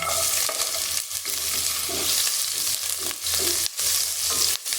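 Ginger sizzles in a little oil in a pan, a steady loud frying hiss with occasional stirring scrapes and brief dips, close up and without talk.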